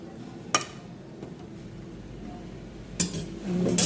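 A utensil clinks and scrapes against a cooking pan while pumpkin greens and green chili are stirred, with two sharp metallic knocks standing out over a quiet background.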